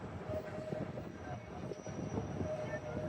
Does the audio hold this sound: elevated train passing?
yes